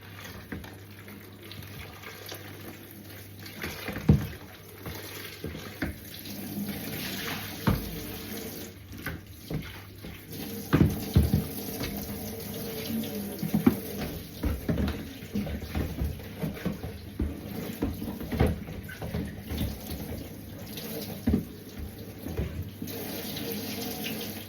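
A kitchen or bathroom tap runs water into a sink to rinse out suds, a steady close splashing rush with uneven spatters and gurgles that lasts throughout, no voices.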